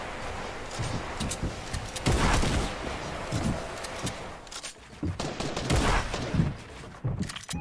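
Rapid bursts of video game gunfire crackle through a firefight, with dense overlapping shots swelling and dropping back in loud waves throughout.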